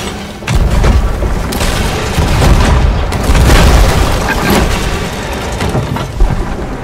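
Repeated booming cannon shots from ships in the pirate video game Sea of Thieves, loud, dense and continuous throughout, with heavy thuds overlapping one after another.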